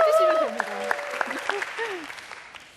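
An audience at a facilitation talk claps in a sustained round of applause that fades toward the end, with a voice briefly audible over it at the start.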